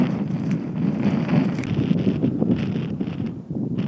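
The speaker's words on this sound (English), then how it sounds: "Ah, see why it's so windy now." Gusty wind buffeting the microphone on a hill walk up to Mount Caburn, a loud low roar that rises and falls in surges for a few seconds, with no voices.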